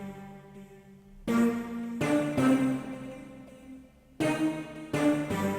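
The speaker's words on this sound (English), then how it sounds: "another lead, which is actually like a string stab, choir, and perk combination" A synth lead combining string stab, choir and percussion tones plays short punchy chords in a repeating rhythm, fairly quiet and alone.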